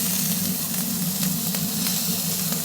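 Venison steak searing in a pan with thyme, a dense continuous sizzle with faint crackles throughout, close and steady.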